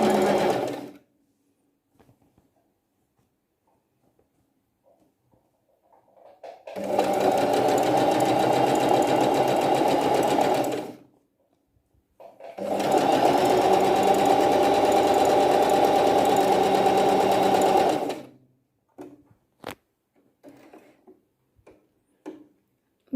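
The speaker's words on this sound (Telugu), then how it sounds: "మీరు మీ ఫుట్ ప్రెషర్ పైన పెడితే అది నార్మల్గా స్టిచ్ చేస్తుంది అన్నమాట" A Singer Talent 3321 sewing machine running decorative stitches in two steady bursts of even, rapid mechanical whirring, each lasting several seconds, separated by quiet pauses with small clicks and handling sounds.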